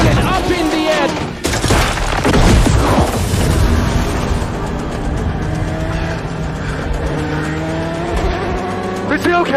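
A race car crash in the Gran Turismo film, with a loud sustained roar of engines and screeching tires and heavy booming impacts, under people talking excitedly.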